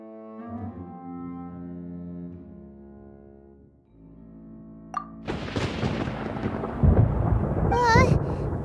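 A thunderstorm in the video game Genshin Impact breaks in after a sustained musical tone, with a sharp crack followed by a loud, rolling rumble of thunder and rain-like noise that builds and continues to the end.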